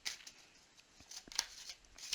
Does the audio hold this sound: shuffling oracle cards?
yes